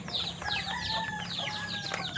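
Backyard pet chickens eating small fish cluck and chirp in a busy, overlapping run of calls nearby, with no voices.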